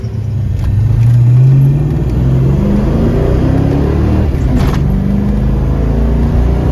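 A 1988 Ford Mustang GT with a freshly replaced fuel pump pulls away, its engine revving up loud and steady, then settling into a constant low rumble as it drives off, with no talk.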